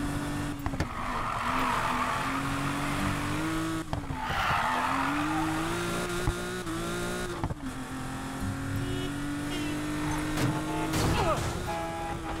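A car in Need for Speed Payback drifts with long, wavering tire squeals over a steady engine drone, the screech rising and falling through several slides.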